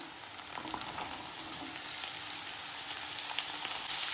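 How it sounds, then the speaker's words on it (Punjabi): Carrots, potatoes and peas fry together in a pan with a steady, dense sizzle and crackle, close and continuous, with occasional stirring scrapes and no talking. "ਇਹਨਾਂ ਤਿੰਨਾਂ ਸਬਜ਼ੀਆਂ ਨੂੰ ਇਕੱਠੇ ਭੁੰਨ ਲੈਣਾ"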